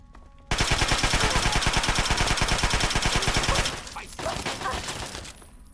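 Enemy gunfire in Fallout 3, a loud sustained stream of rapid machine-gun shots for about three seconds, then scattered shots and impacts trailing off.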